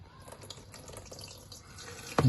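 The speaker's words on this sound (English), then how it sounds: "Now I'm going to put the water in." Water is poured into an aquarium tank that holds plants, a soft running trickle that builds to a louder, sudden gush near the end.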